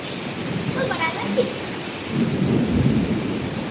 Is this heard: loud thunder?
yes